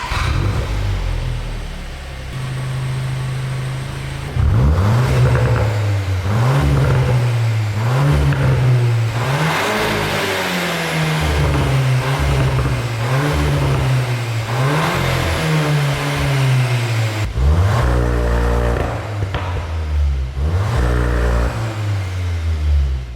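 The 2-litre TSI engine and exhaust of a 2023 VW Arteon R Shooting Brake are revved repeatedly, loud and close, rising and falling in rhythmic bursts with sharper blips near the end and no voices.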